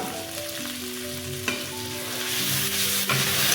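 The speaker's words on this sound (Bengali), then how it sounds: "মশলাটা ভালো করে ভেজে নেব" Spice paste and chopped tomato fry in a pan, a bright steady sizzle broken by a few scraping stirs, close and fairly loud, with tonal hums running underneath and no voices.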